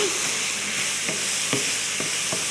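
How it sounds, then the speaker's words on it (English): Vegetables sauté in a hot pan, a dense, even sizzle up close with a few soft stirring taps at regular intervals and no speech. "And you just quickly saute them"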